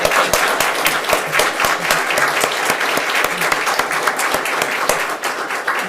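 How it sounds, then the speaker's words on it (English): A round of applause from the audience at a county school board meeting, steady sustained clapping from a modest crowd filling the room at an even level throughout. "I know they would like to give you a round of applause to thank you for your hard work and dedication"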